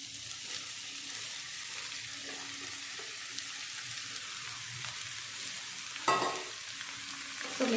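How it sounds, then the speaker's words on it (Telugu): Ivy gourd pieces frying in a pan with curry leaves, green chilli and garlic, a steady soft sizzle with a few stirring scrapes and a louder clatter toward the end. "ఇప్పుడు మనము కట్ చేసుకున్న దొండకాయ పీసెస్ని వేసుకున్నాం."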